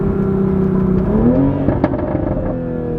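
Stock exhaust on a 2021 Toyota Supra, a steady close engine drone with a shift in pitch midway, followed by a sharp pop and a few faint gargling crackles as it settles.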